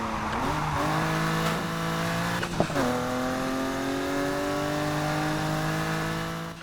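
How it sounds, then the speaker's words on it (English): A V8-swapped BMW M4 with straight-cut gears in Need for Speed Heat revs and pulls hard through rising, falling tones, with a quick shift blip midway before the engine drones on steadily, loud and close. "I will say the M4 engine sounds a lot better than the E46 M3 engine."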